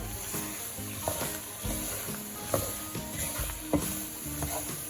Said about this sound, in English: all we want to do is just sort of mix this through until the onions become translucent